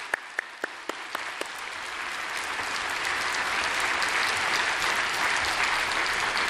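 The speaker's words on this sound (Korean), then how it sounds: "이 시간 수고하신 우리 교육자들 박수로 한번 격려해 주십시오" A church congregation applauds its educators after a sermon. A few scattered individual claps start it off, then swell within two seconds into steady, full applause from a large crowd that holds to the end.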